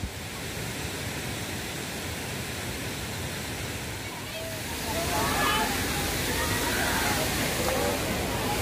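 Panval waterfall in Ratnagiri during the monsoon, a steady broadband rush of falling water that swells louder halfway through, with faint higher splashes over the continuous roar.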